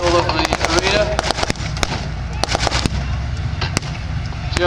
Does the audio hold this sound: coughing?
no